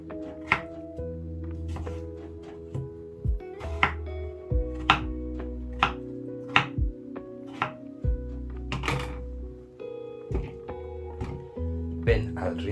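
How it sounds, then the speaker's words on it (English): A knife chops potatoes into bite-sized pieces on a cutting board, giving irregular, close, sharp thunks spaced a second or so apart over a low background hum. "I'll start off by chopping my potatoes into bite-sized pieces."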